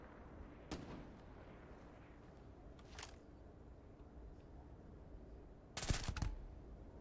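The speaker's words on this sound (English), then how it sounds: "There's a lot of rounds firing this way." Gunfire in the space game Starfield, a few scattered bursts with a loud sharp volley near the end over steady background ambience, no talking.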